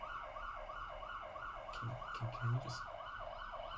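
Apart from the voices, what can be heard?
emergency vehicle siren passing outside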